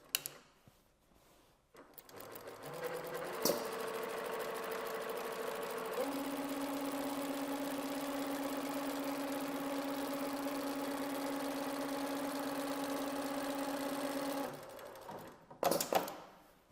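An industrial sewing machine runs steadily for about twelve seconds while stitching a trouser waistband, a close, even mechanical whir with a rapid needle rattle, starting and stopping with brief clunks at each end.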